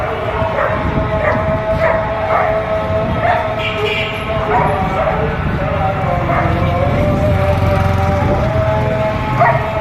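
Several dogs bark and yip repeatedly amid a busy, noisy crowd at an Egyptian animal market where dogs are sold, with people talking in the background.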